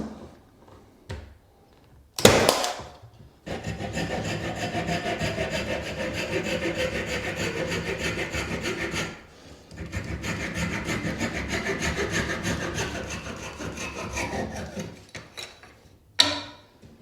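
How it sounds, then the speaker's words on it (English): A handsaw cuts a strip of hardwood edge banding in long, rhythmic rasping strokes in two sustained runs, separated by a brief pause, with sharp knocks at the start and end. "You can mark these and cut them with a handsaw like this."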